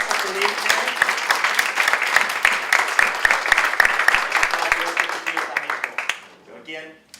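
Audience applause at a school board meeting for two presenters leading a STEM program, a dense steady wash of many hands clapping for about six seconds before fading out.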